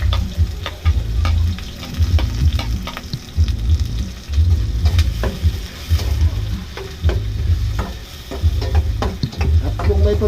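Onion added to a hot pan and frying loudly beside garlic, with steady heavy sizzling broken by repeated bursts of stirring and scraping close up, and no talk.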